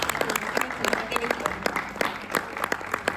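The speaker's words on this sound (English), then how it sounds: "Next, I'd like to invite Miss Aleta Yasharahla. Please clap your hands" Audience applause at a Panafest Youth Day event in Ghana, welcoming a speaker to the stage: dense, steady clapping from a crowd at moderate distance, with voices and cheers mixed in throughout.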